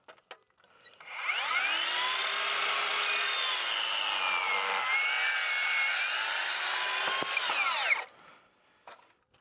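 Power saw cutting through a length of timber during a verandah repair on an old Queenslander, a single continuous whining cut of about seven seconds starting and stopping abruptly, close and loud.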